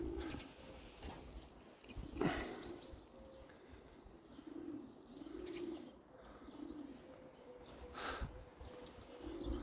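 Collared dove cooing repeatedly in a rural allotment garden, a steady series of soft, low hooting phrases at moderate distance, with a brief flutter of wings or rustle partway through and no talk.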